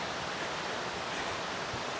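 A small stream with a tiny waterfall at a lakeside campsite makes a steady, even rush of splashing water, close and constant, with no voices.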